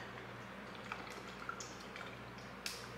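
Eight fluid ounces of liquid being poured into a container for a protein shake, faint and close, with soft splashes and a few drips over a steady low background hum.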